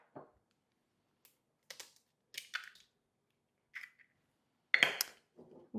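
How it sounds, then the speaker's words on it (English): An egg cracked open while mixing burger bun dough: a few sharp, separate taps followed by a crunchy crack and a short wet shuffle, close by and with no talking. "I'm going to crack open an egg."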